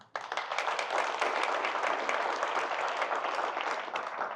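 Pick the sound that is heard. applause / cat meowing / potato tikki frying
applause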